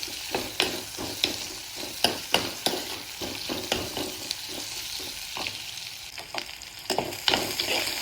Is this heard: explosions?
no